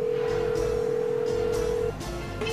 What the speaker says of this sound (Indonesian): Tuh, telepon lu. Angkat deh